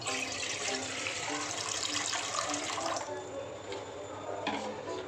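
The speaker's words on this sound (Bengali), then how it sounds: "গ্যাসটাকে আমি ধরিয়ে নিলাম, আর এর মধ্যে জল দিয়ে দেবো" Tap water runs steadily into a pan on a gas stove while making rasgulla, a continuous splashing pour that eases off partway through, close and moderately loud with no talking.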